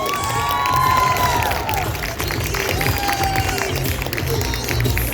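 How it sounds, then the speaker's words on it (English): A crowd at a fan convention costume contest applauds and cheers loudly, with steady clapping under whoops and shouts that carry on throughout. "Give them another round of applause"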